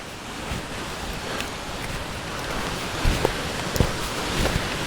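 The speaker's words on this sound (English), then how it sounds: "So, quite an impressive waterfall here." Steady, rushing roar of a large waterfall on the Great Glen Way fills the scene, broad and constant, with a few soft thumps and gusts breaking through.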